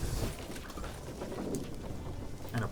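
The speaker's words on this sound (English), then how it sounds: "And apply Torrential Rain." Torrential rain in the card game Thronebreaker: The Witcher Tales, a steady dense hiss of heavy downpour with low rumbling swells, continuous and fairly close throughout.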